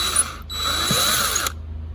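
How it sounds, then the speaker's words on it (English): A power drill bores a hole into a Jeep wheel rim on a 1994 Jeep YJ, its steady whine running for about a second and a half close up before cutting off. "So I'm gonna start drilling it bigger and bigger, and hopefully soon we're gonna have this wheel out."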